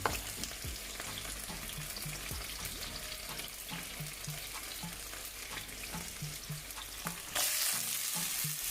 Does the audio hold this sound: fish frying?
yes